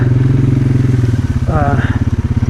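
A Polaris 570 four-wheeler ATV engine runs at a steady low drone, close and loud, with a brief voice partway through and a pulsing throb toward the end.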